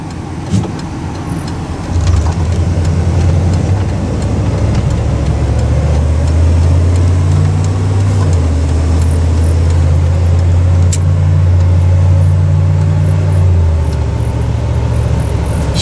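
A 1995 GMC C2500 extended-cab long-bed pickup cruises along a straight Ohio road, its engine giving a steady low drone with tire and road noise that swells after a couple of seconds and holds throughout, heard from inside the cab.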